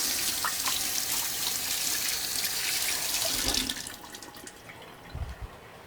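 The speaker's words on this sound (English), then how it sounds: "Let me just wash up." Tap water runs steadily into a sink while hands are washed, a close, bright rush that shifts as the hands move under the stream, then drops to a softer trickle with a few splashes near the end.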